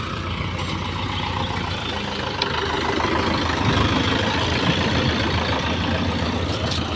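A tractor engine idles steadily on a farm, a continuous low rumble with faint clatter throughout, fairly close and unbroken, with no talk.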